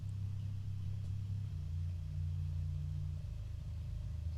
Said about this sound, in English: the bass tone in this, I use a contact instrument called the Inferno Bass